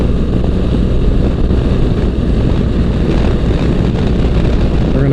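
Adventure motorcycle riding on a dirt road, picked up by a helmet-mounted Insta360 Air mic: a loud, steady engine drone with heavy wind rumble throughout, no talking.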